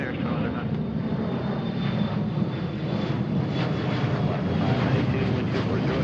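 Horizon-operated Alaska flight 2109 taking off, a steady broadband roar of aircraft engine noise that builds slightly over several seconds, close and loud, with faint voices beneath.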